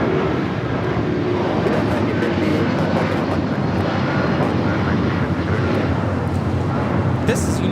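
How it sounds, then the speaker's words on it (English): A United Airlines Boeing 757-200 takes off at Los Angeles LAX for Newark, its steady engine roar filling the background while people talk throughout. "This is United Airlines 1950 taking off to Newark on the 757-200"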